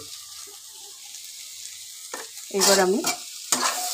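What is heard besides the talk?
frying soya chowmein in pan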